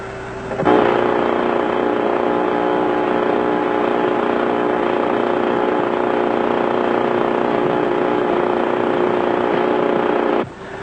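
A B-17 bomber's number 1 radial engine starts up and settles into a loud, steady rumbling run that holds evenly before cutting off abruptly near the end.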